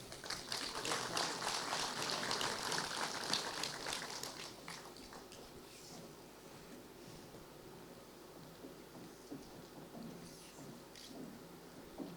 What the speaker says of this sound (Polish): Brawa dla państwa Marciszewskich.